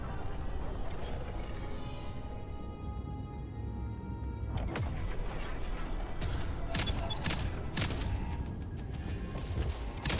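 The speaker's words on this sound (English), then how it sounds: "These cannons with Legion blueprints just completely deleted that ship." Ship cannons with Legion blueprints fire in the Jump Space space game over a constant loud roar, with a run of sharp blasts from about the middle of the clip to the end.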